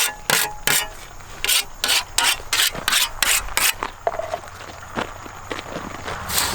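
A scythe swishes through tall grass on a ninth-generation organic farm, the last mowing of the year, with a steady run of sharp rasping strokes close by and a few slower, quieter sweeps near the end.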